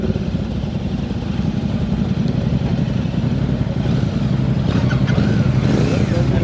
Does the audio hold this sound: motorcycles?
yes